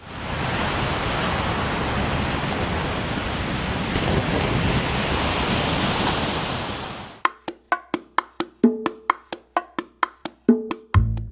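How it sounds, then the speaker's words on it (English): Ocean waves break on a Puerto Rico shoreline near Aguadilla as a steady, loud roaring wash of surf for about seven seconds, then give way to a run of sharp, evenly spaced clicks. "Look at those waves."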